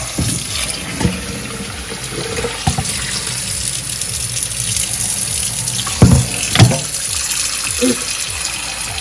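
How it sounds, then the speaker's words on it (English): Cold tap water runs steadily into a sink over cooked saltfish after the hot water is strained off, a continuous splashing flow close by with a few louder clunks and splashes along the way. "I'll put some cold water on there"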